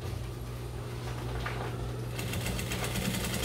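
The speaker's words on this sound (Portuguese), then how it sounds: "Costurando" Sewing machine stitching fabric, a steady close mechanical whir with rapid rhythmic needle clatter that grows slightly busier partway through, with no talk over it.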